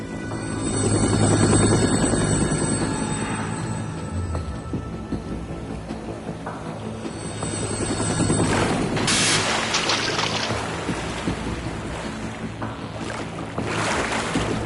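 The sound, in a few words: helicopter approaching in video game Metal Gear Solid 2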